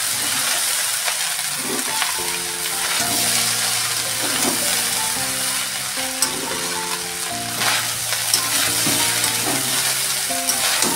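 Fried rice with pre-fried vegetables being stir-fried in a pan, giving a steady, continuous sizzle with scraping stirs, under background music throughout.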